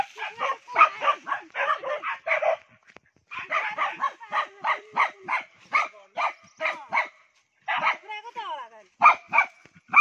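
A dog barks in rapid repeated bursts near the listener, with short gaps between the runs and some yipping and whimpering mixed in, all at close range.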